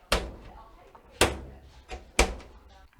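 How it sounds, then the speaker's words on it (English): A clothes dryer door being shut after a door switch repair, three firm thumping closes spaced about a second apart, each a sharp impact with a short rattle, near and clear with faint handling noise between. "Close the door, make sure everything's working correctly."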